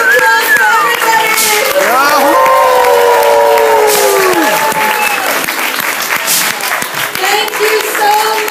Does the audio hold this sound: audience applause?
yes